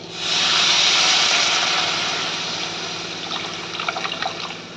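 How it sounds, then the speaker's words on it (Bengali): Water pours steadily into spiced, well-fried masala for a hilsa fish curry, a rushing splash that swells quickly and then tapers off into faint bubbling crackles, with no voices. "এবার আমি এর মধ্যে পরিমাণ মতো জল দিয়ে দেব"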